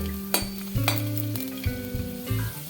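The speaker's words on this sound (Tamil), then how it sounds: "சேர்த்துட்டு இதையும் நம்ம எண்ணெயில் நல்லா வறுத்துக்கலாம்" Garlic cloves sizzling in hot oil in a pan while being stirred, a steady close crackling fry broken by several sharp scraping stir strokes, with no talking.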